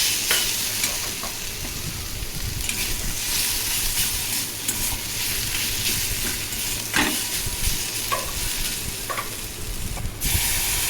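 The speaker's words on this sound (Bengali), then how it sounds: "পোস্ত বাটাটা পুঁই শাকের সঙ্গে ভালোভাবে নাড়াচাড়া করে কষিয়ে নেব দু তিন মিনিট মতো" Malabar spinach and poppy seed paste being stir-fried in a pan give a steady, close sizzle with scraping stir strokes throughout, no voices.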